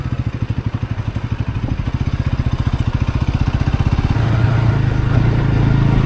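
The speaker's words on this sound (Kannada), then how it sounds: "ನಾನು ಬೈಕ್ ತಗೊಂಡು ಹೋಗಿರಲಿಲ್ಲ, ನನ್ನ ಬೈಕ್ ಇಲ್ಲಿದೆ." A motorcycle engine idling nearby in a hotel parking area, a loud, steady rapid thumping pulse that grows fuller and rougher toward the end, with no talking.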